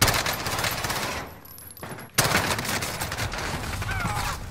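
Sustained bursts of automatic gunfire in Call of Duty Warzone, loud and close, with a brief lull in the middle before dense rapid shooting resumes.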